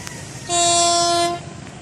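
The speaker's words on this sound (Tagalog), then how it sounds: "Ayan na naman ang tren." A train horn blares in one sustained, loud blast lasting under a second beside the railway tracks, set against steady low rumble before and after.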